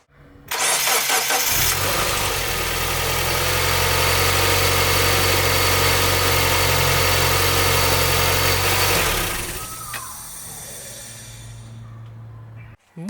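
A Mazda MX5 fitted with an ethanol conversion kit starts on the first try and settles into a warm-up idle, its close engine running steady and loud for several seconds before easing to a lower, quieter idle.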